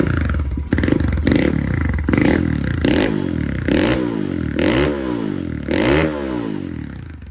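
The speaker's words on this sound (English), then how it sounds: "give you a couple of revs here" A Honda CRF/XR100 dirt bike engine fitted with a BBR 120 big bore kit and new cam revs repeatedly, about eight quick throttle blips in a steady rhythm, loud and close, the pitch rising and falling with each rev.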